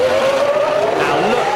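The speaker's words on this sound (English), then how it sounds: "just listen to the tortured tyres" Formula 1 car at the 2001 Monaco Grand Prix, its tortured tyres squealing as it slides near the barriers: a loud, close, sustained tonal whine that slowly rises in pitch with no talk.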